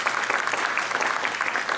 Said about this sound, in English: please join me in a round of applause for Mary